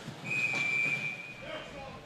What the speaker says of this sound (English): Whistle blown, the net was off, but Coyle, the younger Coyle, had a chance